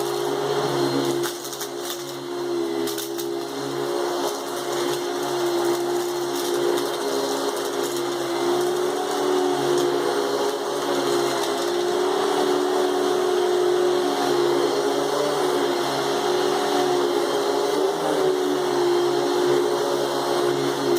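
A Hoover Spectrum 950 canister vacuum cleaner runs continuously over a rug, a steady loud motor hum with a constant tonal whine and rushing airflow, close and unchanging throughout.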